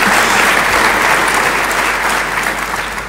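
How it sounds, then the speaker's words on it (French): A crowd at a 2022 graduation ceremony for architecture graduates breaks into loud, close applause that holds steady and then begins to thin toward the end. "On peut l'applaudir."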